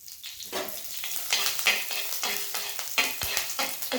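Dried red chilies and curry leaves fry in hot oil while being stirred, a dense crackling sizzle punctuated by scraping strokes of a spoon, close and continuous with no talk.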